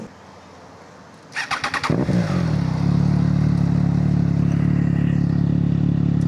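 A Triumph Trident 660 motorcycle with a cut exhaust cranks with a few sputtering bursts, catches, then settles into a loud, steady, deep idle rumble close by.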